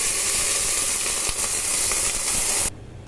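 Loud, dense sizzling and steamy hissing surge as water is poured onto fried fish in a hot pan for a few seconds, then suddenly drop away to near quiet.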